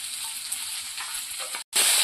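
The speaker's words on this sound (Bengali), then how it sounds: "সবজিটা ভালো করে কষিয়ে নেব" Vegetables sautéing in a pan for a tamarind crab curry, a steady close sizzle that cuts out briefly near the end and then returns louder, with no talking.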